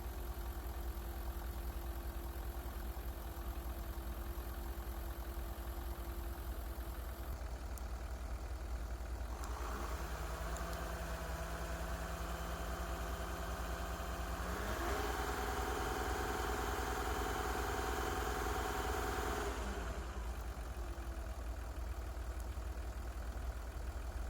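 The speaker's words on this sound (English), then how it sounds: "With the engine running, the voltmeter shows the alternator is charging perfectly." A VW Touareg 3.0 TDI diesel engine idles steadily throughout with a repaired alternator, a continuous low, even hum with shifting mid-range tones and no speech.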